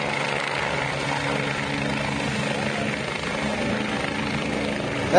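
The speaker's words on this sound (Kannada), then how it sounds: "ಆ ಒಂದು ಹೆಲಿಪ್ಯಾಡ್ಗೆ ಸಚಿವ ಸತೀಶ್ ಜಾರಕಿಹೊಳಿ ಅವರ ಹೆಲಿಕಾಪ್ಟರ್ ಬಂದು ಇಳಿದಿದೆ" A helicopter lands at a helipad, its loud rotor and engine drone steady and close for the whole stretch, with no talking.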